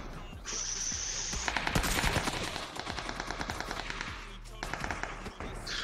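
Rapid automatic gunfire and sharp single rifle cracks from a PUBG battle royale match, loud bursts repeating over about six seconds with brief gaps, voices talking faintly underneath.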